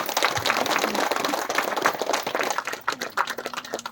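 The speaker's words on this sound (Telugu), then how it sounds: "గట్టిగా చప్పట్లు కొడతాం" An audience at a pyramid meditation ashram foundation ceremony applauds loudly for guru Subhash Patriji, a dense, sustained burst of many hands clapping at close range.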